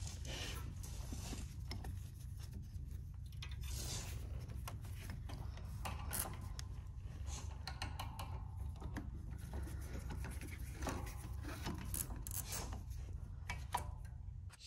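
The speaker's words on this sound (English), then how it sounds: "Basically just grab hold of this pulley and lift it up, and that's the tensioner on the belt, and you can pull the belt right off." The tensioner pulley on a Walker mower is lifted and the drive belt is pulled off, giving continuous close rubbing and scraping with scattered small metallic clicks, steady and low in level, without speech.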